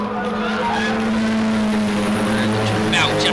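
Stock Hatch race cars in a 750 Motor Club circuit race, engines droning steadily as they run nose to tail through the Craner Curves, with a commentator talking over the loud, continuous engine noise.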